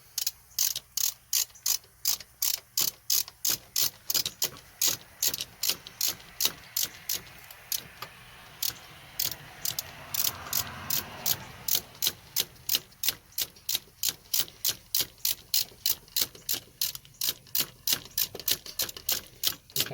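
Ratchet wrench snugging the new hardware on a Boomba fuel rail fitted to a Dodge Neon SRT-4, a long run of steady, close clicking strokes with brief pauses, no talking over it.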